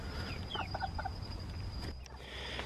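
A Cornish Cross chicken being held on a farm gives a few short clucks, close and fairly soft, over a steady background hum.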